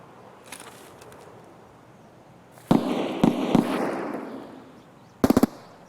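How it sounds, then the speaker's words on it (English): Rapid bursts of automatic gunfire from a Vector or MP7 submachine gun ring out in Escape from Tarkov, a few short volleys at mid distance with echoing tails between them. "Very fast firing. That was either a Vector or like a MP7 or something."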